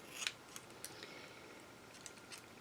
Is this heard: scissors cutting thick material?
yes